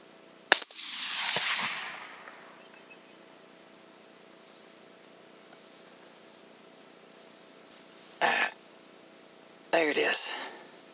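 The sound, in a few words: gunshots during a hog hunt in Texas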